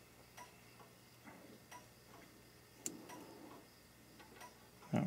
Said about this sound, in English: you can probably hear the ticker not ticking any different